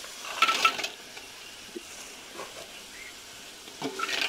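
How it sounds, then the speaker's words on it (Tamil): Ginger garlic paste sautéing in oil in a home kitchen, a soft faint sizzle with occasional light clinks of a utensil against the pan. "இது கொஞ்சம் எண்ணெயில் இது மாதிரி இஞ்சி பூண்டோட வதக்கணும்னா கொஞ்சம் நல்லா ருசியாக இருக்கும்"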